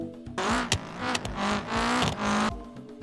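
A video game racing car engine revs in loud, repeated bursts with rising whines that cut off between shifts, sounding close and harsh.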